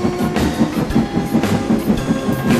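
Steam engine Ferdinand from a Thomas & Friends story races up a hill, heard as steady, loud rhythmic rail clatter and chugging without pause.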